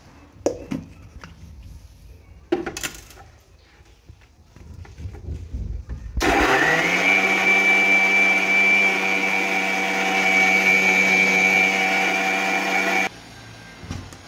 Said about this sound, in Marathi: तर आता मी याला ग्राइंड करून घेते